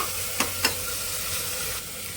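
Tomatoes roasting in a pressure cooker, a continuous soft sizzle with two quick scraping stirs early on, then a steady frying hiss.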